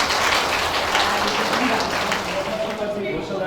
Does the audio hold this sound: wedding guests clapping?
yes